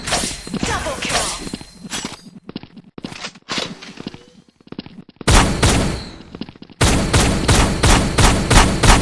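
Shotgun fire in a first-person shooter video game, heavy blasts in quick bursts mixed with game sound effects, loud and close, with brief pauses between volleys.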